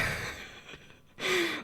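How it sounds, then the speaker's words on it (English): A person gasping and sighing, breathy exhalations with a drawn-in breath near the end, close and fairly loud with no talk. "I'm gonna wear myself out with all of that gasping."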